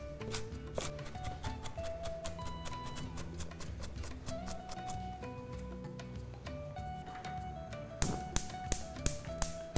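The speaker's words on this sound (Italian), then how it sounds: "vado a tritare la cipolla." An onion is chopped with a knife, giving quick, steady taps on a board over soft background music, with a sharper, louder run of chops near the end.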